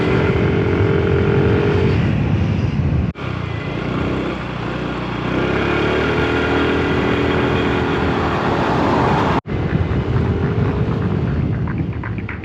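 A scooter ride near Langkawi, the small engine droning steadily and close throughout, with road noise and two brief dropouts along the way.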